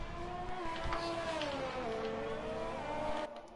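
A McLaren race car spins out at the Austria circuit in a racing game, engine pitch sliding and wavering as tires scrub, steady and close, ending with a sudden drop in level.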